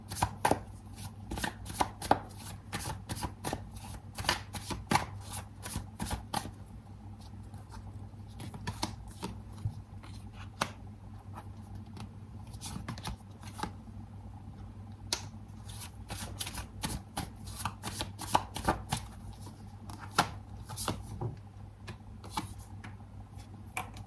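Tarot cards shuffled by hand in a steady run of crisp riffling and tapping bursts, close and fairly quiet, repeating without pause and with no talking.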